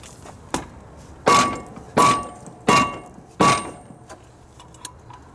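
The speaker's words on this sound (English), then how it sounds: "I'm going to go behind it with a little dead blow hammer and see if I can get it to budge" A small dead blow hammer strikes a rusted-on lawn mower rear axle behind the wheel, one light tap followed by four firm, evenly spaced thuds close by with no talk.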